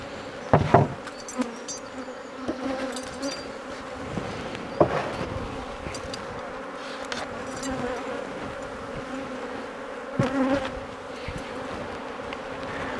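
Honey bees drone steadily around an open double-brood hive during an inspection, a close, continuous buzzing with occasional knocks of hive equipment.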